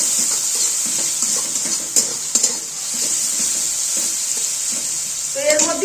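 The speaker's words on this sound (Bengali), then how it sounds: "একটু নাড়াচাড়া করে দিচ্ছি পেঁয়াজের সঙ্গে রসুনটা" Fried onion and garlic paste stirred in a pan, a steady bright sizzle with soft scraping strokes and a couple of sharper clinks, close and fairly loud.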